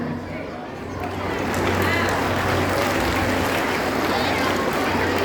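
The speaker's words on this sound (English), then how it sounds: "Let's have a big round of applause for them." An audience applauding at a farewell celebration for a senior manager, dense clapping swelling after a quieter start and then holding loud and continuous, with crowd murmur beneath.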